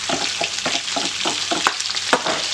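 Browned sausages sizzle loudly in a frying pan as onions are added, with a broad constant hiss broken by regular scraping stirs about every half second, close and with no talk.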